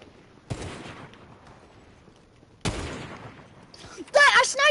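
Gunfire in an online shooter, two loud sharp shots spaced a couple of seconds apart, each with a short decaying tail, then a burst of busy noise and a voice at the end.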